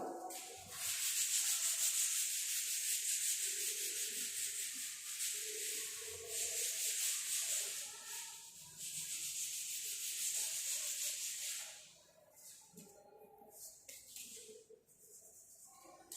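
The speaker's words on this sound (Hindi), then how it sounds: "मैं इसको रब कर देती हूँ फिर समझाती हूँ" An eraser rubs across a written board in a long, steady, close scrubbing stroke that runs about eleven seconds before easing into quieter, patchier rubs, with no voices.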